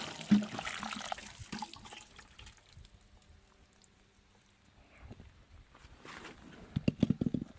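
Water poured to soak tree seedlings of Afzelia xylocarpa (makha mong) being raised from seed, with a soft splashing and trickling that comes and goes, then sharper splashes near the end.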